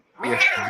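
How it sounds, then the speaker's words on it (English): A single drawn-out cat meow, close and loud, rising then falling over less than a second. "When your cat started meowing"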